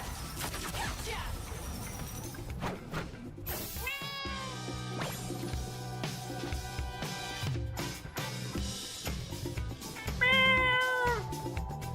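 Several cat meows rise out of a busy mix of game sounds and background noise, with one at the start, a clear drawn-out pair near the middle and a louder call toward the end.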